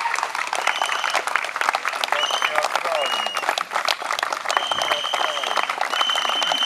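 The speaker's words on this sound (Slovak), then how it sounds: "Ďakujem za ten potlesk" An audience claps steadily in a hall at a welcoming ceremony at a business academy on Polárna Street in Košice, with dense, sustained applause that keeps a fairly even level, while voices murmur faintly underneath.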